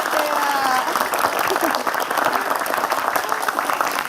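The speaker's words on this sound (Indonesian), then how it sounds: "tepuk tangan dong buat Zahra" A television studio audience claps for a young participant named Zahra, a steady, fairly dense round of applause with some voices mixed in.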